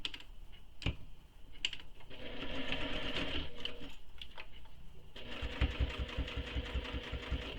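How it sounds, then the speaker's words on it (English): A sewing machine stitches the edge of a tote bag, its rapid mechanical chatter running in close bursts with short pauses and a brief click between runs, no talking. "So I'm going to sew this first edge here with the seam allowance she gives in the pattern."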